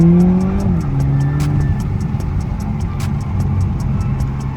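A big single-turbo Toyota Supra revs loudly and close, its engine droning steadily with a changing pitch and a faint periodic ticking over the exhaust, with no one talking.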